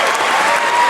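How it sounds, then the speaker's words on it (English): A studio audience bursts into dense, loud applause, a continuous wash of many hands clapping at once that holds steady through the whole second. "Clap it up"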